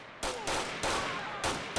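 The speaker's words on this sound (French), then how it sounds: "coup de feu, coup de feu, coup de feu, coup de feu" Gunfire in GTA IV during a police shootout, several sharp loud shots in quick bursts, roughly four blasts in under two seconds with no talk.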